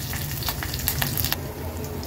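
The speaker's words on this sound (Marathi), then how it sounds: "फोडणी व्यवस्थित आपल्याला परतून घ्यायची आहे तुपावर" Tempering of red chillies, curry leaves and ginger-garlic-chilli crush sizzling in ghee for kadhi, a steady close frying hiss with brief crackles and the scrape of stirring.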